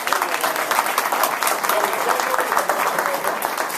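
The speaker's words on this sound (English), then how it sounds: "How about a round of applause for John?" An audience at a talk applauds a presenter, loud dense clapping that holds steady for a few seconds, with some voices mixed in.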